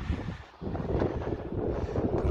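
Strong wind buffets an outdoor microphone where a pigeon is being flown, a loud steady low rumble that dips briefly then surges back, with no talking.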